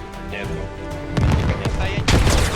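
A grenade goes off during a Squad military shooter match: heavy, booming blasts land in two bursts, close and loud, amid ongoing gunfire, with people talking over the action.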